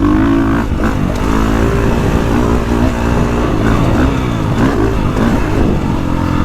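A 2024.5 KTM 450 Factory Edition dirt bike being ridden on hard-pack dirt, its engine buzzing and revving steadily the whole time, rising and falling with throttle, loud and close with no talking.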